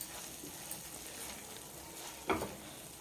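Faint, steady sizzle of onion paste frying in oil in a pan for a cluster bean onion curry, with one brief scrape of stirring near the end.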